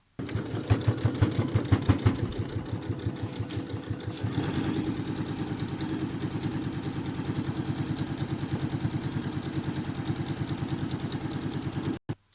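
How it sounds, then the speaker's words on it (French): A sewing machine stitches a seam along the edge of a fabric face mask, running in a fast, even mechanical chatter that pauses briefly near the start, then continues steadily and close before stopping abruptly. "je vais piquer tout au bord, tout le long, pour les 4"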